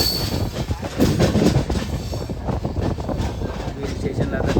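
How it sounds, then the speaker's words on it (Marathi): A Konkan Railway train pulling into Veer station, heard from on board as a loud rumbling roll with clattering wheels and faint squeals, steady throughout. "वीर स्टेशनला आता ट्रेन थांबेल आपल्याला."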